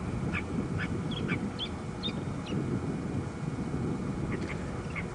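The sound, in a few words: birds cheeping and chirping at a game reserve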